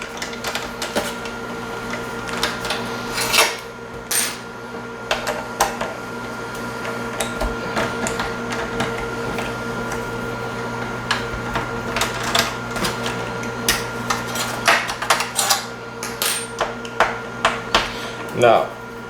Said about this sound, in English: taking our bigger screws out.